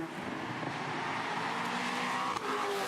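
Ford Mustang race cars roar along a racing circuit toward a right-hand corner, a continuous loud engine drone with a brief dip as they pass.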